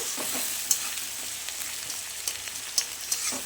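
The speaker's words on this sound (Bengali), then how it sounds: "এখন এটা ভালো করে একটু ভেজে নিব" Chopped onion and a whole garlic clove fry in a pan with a constant close sizzle, broken by a few sharp metallic taps and scrapes from stirring, with no voices.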